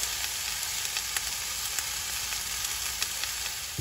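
Chicken sears in a cast iron skillet with a steady, soft crackling sizzle throughout, punctuated by a few faint pops, with no voices.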